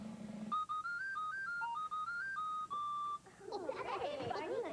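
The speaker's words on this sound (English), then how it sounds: "It's the captain's whistle. goody, a whistle. Oh, let's see if I can blow a tune." A toy captain's whistle blown in a short tune of separate, steady high notes, fairly loud and close, followed by a burst of excited talk.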